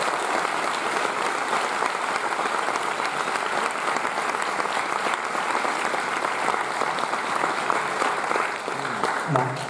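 An opening-night crowd at a Paris film festival applauds Monica Bellucci with sustained, full clapping that holds evenly across the whole stretch, a few voices murmuring underneath.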